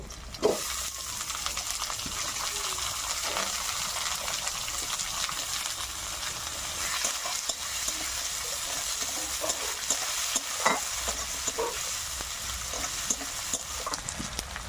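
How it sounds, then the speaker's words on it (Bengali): Chopped potatoes frying in hot oil with onions that have already browned, a steady sizzle under repeated scraping and stirring with occasional sharper clinks, fairly close. "কেটে রাখা আলুগুলো দিয়ে দেবো।"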